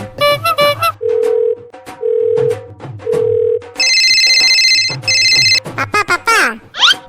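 In a Bangla cartoon comedy, a phone sequence plays loud, clean electronic tones: short beeps, then repeated steady ring tones and brighter warbling signals, with a voice briefly at the end.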